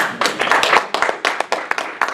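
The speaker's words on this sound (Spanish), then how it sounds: "Denle un aplauso al Señor" Church congregation claps for the Lord during a sermon, close, loud and uneven hand claps in quick bursts from a small group, with irregular gaps between them.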